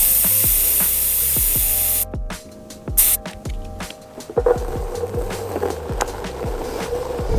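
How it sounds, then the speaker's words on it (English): Air hisses out of an off-road Onewheel GT S-Series electric board tire in a loud, steady rush for about two seconds, with a brief second burst, followed by the rolling, clattering rumble of the board. "I now realize that I definitely want to let a little bit of air out of this tire"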